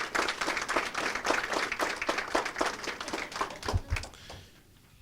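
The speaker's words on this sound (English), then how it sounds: "let's give them a round of applause." An audience at an advisory council meeting applauds, a crowd of people clapping in a steady busy patter for several seconds before it quickly dies away to quiet.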